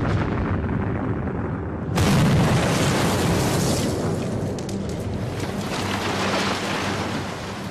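Army engineers blow up WWII concrete pillboxes on the Siegfried Line with packed explosives: a sudden heavy boom bursts out, then a long, loud rolling rumble and roar continues to the end.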